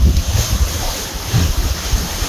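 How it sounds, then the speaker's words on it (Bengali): Strong sea wind rushes across the microphone at Seethapalem cave beach near Vizag, a loud buffeting roar with low gusty thumps layered over the wash of breaking waves. "নীল সমুদ্রের ঢেউকে ছুঁয়ে আসা জোরালো হাওয়াটা"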